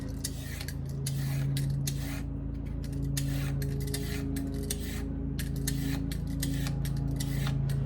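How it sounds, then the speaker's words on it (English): Carrots are peeled with quick, repeated rasping strokes in an irregular rhythm, close and crisp, over a steady low mechanical drone in the background. "And then I want to peel the carrots."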